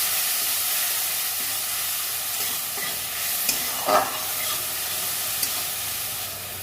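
Coriander, cumin and turmeric powders sauté in a pan for a fish curry with pumpkin and potato, giving a steady close sizzle with a brief clink of stirring partway through.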